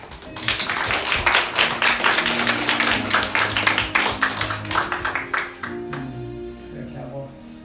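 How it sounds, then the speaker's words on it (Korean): Church congregation at a Sunday service clapping in welcome, a fairly small group giving a burst of distinct, uneven claps that fades out near the end, with voices and a low musical tone underneath. "우리 박수로 환영드려야 합니다."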